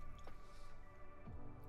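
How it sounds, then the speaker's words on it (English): A paintbrush swished and rinsed in a water pot during miniature painting, giving a soft close wet squish and drip with a faint steady background hum. "Wash the brush."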